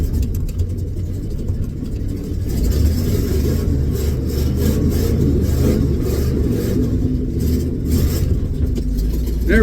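1984 Ford F250 engine on a cold start, a loud low rumbling idle that rises into a revving surge partway through and holds steady, close by with no talk.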